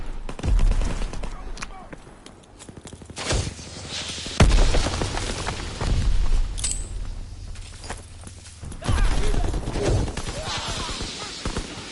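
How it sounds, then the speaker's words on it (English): A grenade blast in Call of Duty WWII, one sharp, loud boom among scattered gunfire and rattling clatter, with a voice talking intermittently over the action. "Throwing grenade."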